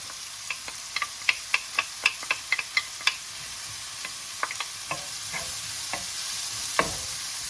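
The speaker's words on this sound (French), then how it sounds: "nous allons les faire revenir un peu à la poêle, qui colore un peu et qui soit cuit" Mushrooms and shallots sauté in a frying pan with a low steady sizzle, punctuated by a quick series of crisp ticks and clacks from stirring, close and clear with no voices.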